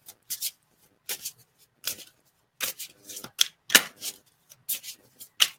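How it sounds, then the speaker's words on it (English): Oracle cards, an Archangel Michael deck, being shuffled in repeated short riffling bursts with brief pauses between, close and crisp with no talking. "we're going to draw Archangel Michael cards, of course."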